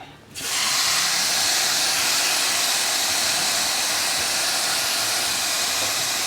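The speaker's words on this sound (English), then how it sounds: "So you can hear that sizzle." Flank steak sizzles loudly on a hot Ninja Foodi Pro XL grill, a dense, steady hiss that starts abruptly and holds at full strength throughout.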